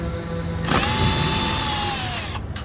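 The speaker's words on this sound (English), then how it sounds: "So I have one hooked up to my drill right here, and I'm just gonna go up there and work at it, see if I can get them loose." A power drill fitted with a star key bit works at the wheel bolts on a 2015 Ford Escape, a steady loud whine that rises in at once, holds for about two seconds with a slowly falling pitch, then cuts off, with no talk.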